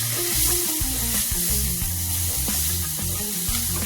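Elephant foot yam pieces frying with chilli powder and spices in a pan, a dense close sizzle under a rhythmic, low thumping beat of background music, with no talking.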